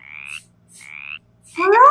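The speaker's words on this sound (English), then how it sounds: "Frog!" A frog gives two short, bright croaks with a pause between, then a louder, buzzier call at the end. No one speaks.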